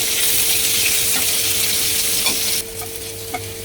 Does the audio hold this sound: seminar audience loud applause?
no